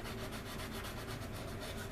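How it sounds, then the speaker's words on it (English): Sanding stick rubbing back and forth along the leading edge of a plastic model aircraft wing, a C-124 Globemaster kit, giving a steady close scratchy friction sound throughout. "you're sanding down wing leading edges, don't file straight"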